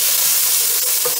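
Green chillies frying with turmeric in a pan for Rajasthani hari mirchi ke tipore, a dense, loud, close sizzle with soft stirring, brief and continuous with no voices.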